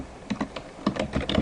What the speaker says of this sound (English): So I'll type my password.